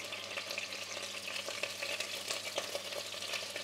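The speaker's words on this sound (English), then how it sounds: "I'm going to saute this for a while." Garlic and seasoning peppers sizzle steadily in hot coconut oil, a dense, continuous frying crackle with occasional stirring clatter, close and alone without voices.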